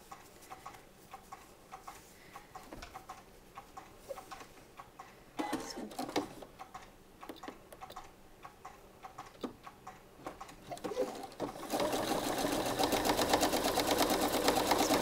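Sewing machine top stitching an elastic casing on fabric, a soft rapid ticking at first that swells into a steady, louder run of stitching near the end, close and alone.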